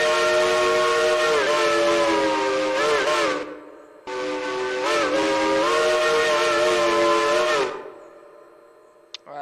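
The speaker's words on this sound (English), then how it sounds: "We have a Crosby 3 chime, also a nice sounding whistle here." Crosby three-chime steam whistle in the Railroader train game: two long, loud blasts of a rich, hissing chord, each around four seconds, with a brief gap between them and a quiet tail after.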